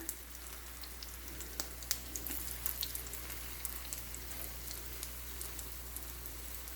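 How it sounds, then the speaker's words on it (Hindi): Chicken resha kabab sizzles in a pan over medium heat, a quiet steady crackle with scattered faint pops, heard alone without talk. "मीडियम आंच पे मैं इसको फ्राई कर रही हूँ"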